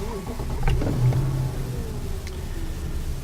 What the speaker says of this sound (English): I'm shutting the car off, so I'll start the car